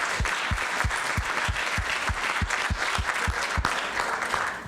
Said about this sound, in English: Let's give all of our video and multimedia contest winners a round of applause.